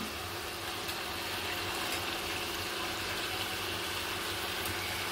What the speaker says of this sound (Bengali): চিকেনটাও দিয়ে আমি কষিয়ে নেব।